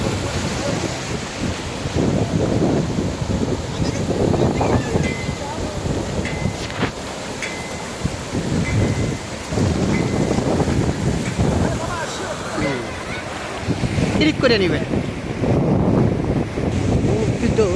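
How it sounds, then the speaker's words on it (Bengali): Strong wind buffets the microphone on Kuakata sea beach, gusting in heavy rushing waves with low roaring bursts, while a voice speaks briefly beneath the blustery noise. "বাতাস"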